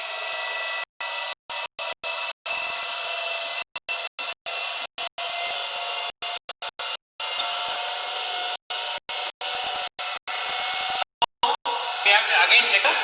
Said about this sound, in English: we need the motor should run at 1500 rpm